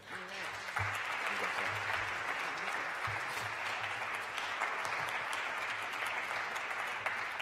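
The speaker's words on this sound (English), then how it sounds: "let's give another round of applause" Steady applause from an audience, a dense wash of clapping that holds evenly throughout, with some low murmuring underneath.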